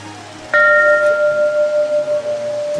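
A single clear strike of a temple bell in a golden bell tower at Wat Rong Khun, Chiang Rai, ringing out, its pure tone sustaining and slowly pulsing as it decays over a few seconds.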